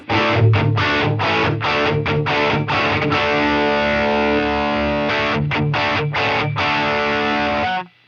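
Distorted electric guitar through an amp model and Helix cab, room reflections turned all the way up, plays chugging palm-muted chords with a long sustained chord in the middle, loud and saturated, no talk.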